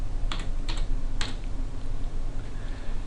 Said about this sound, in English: I type in the search bar